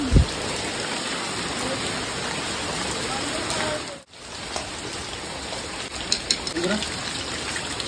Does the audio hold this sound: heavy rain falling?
yes